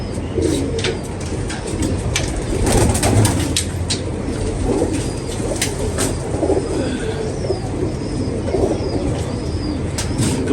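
Pigeons coo softly amid outdoor bustle, with scattered clicks and faint chirps over a steady background hum.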